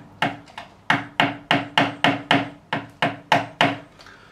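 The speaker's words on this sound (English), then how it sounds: "What I'm going to do is very gently tap the back of the nut." Sharp wooden tapping against the back of the nut on an Ibanez Roadstar II RG200 guitar neck during a refret, about a dozen light, evenly spaced knocks, close and clear with no talking.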